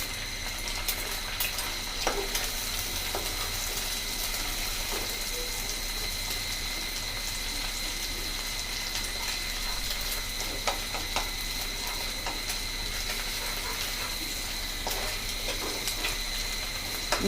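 Egg and shapla frying in a pan, a steady, even sizzle that hisses continuously at a moderate level with small pops and crackles scattered through it.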